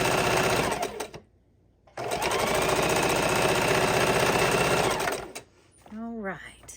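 A sewing machine runs in steady bursts, stitching quarter-inch seams on a quilt, with a brief pause between runs and a short spoken word near the end.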